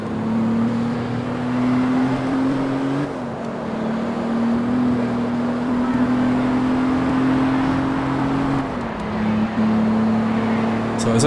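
A race car engine drones steadily while driving in Forza Motorsport 2, a loud sustained tone holding pitch with small shifts up and down as gears change, dominating throughout.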